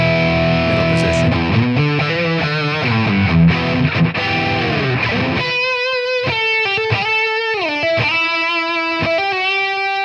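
Electric guitar on the middle pickup through a Crack-In Ultimate ToneX capture of a Victory amp, playing a thick distorted chordal passage that gives way to sustained, ringing single-note lines, loud and upfront with no talking.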